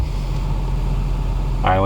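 A turbocharged Lexus IS300 with big injectors idles steadily, a smooth low engine hum held close and even, with a voice cutting in right at the end.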